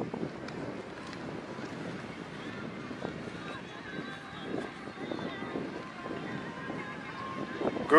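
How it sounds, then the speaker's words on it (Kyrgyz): Steady wind buffets the microphone outdoors near Brighton Beach in Brooklyn, New York, a continuous low rumbling roar with gusty swells that run the whole time and rise sharply at the very end. "Анча-мынча шамал болуп атат. Микрофондон угулбай калышы мүмкүн,"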